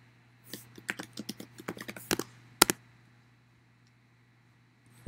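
Quiet, crisp keystrokes on a computer keyboard as a command is typed on a Mac, a quick run of clicks lasting a couple of seconds and then stopping.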